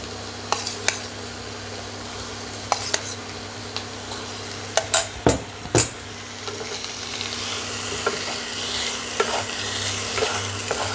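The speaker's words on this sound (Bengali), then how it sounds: "কড়াইতে দিয়ে দিচ্ছি ছোট করে কাটা বোনলেস চিকেন" Small-cut boneless chicken pieces fry in a kadai with a steady close sizzle, broken by a few sharp clinks and scrapes of stirring near the middle, no voices.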